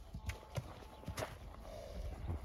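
A Novoaleksandrovsk draft horse's hooves clip-clop in a few separate, uneven steps at close range, the knocks spaced irregularly over a faint steady background.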